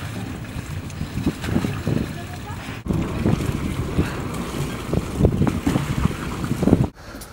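A Beneteau Swift Trawler 35 motor boat running at its top speed of 19 knots near La Rochelle, with a loud constant engine drone, rushing water and buffeting wind noise on the microphone.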